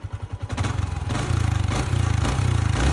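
A 2022 Yamaha Y15ZR v2 motorcycle in standard original condition runs nearby, its small single-cylinder engine putting out a rapid, even pulsing chug that firms up into a steady, slightly revved beat.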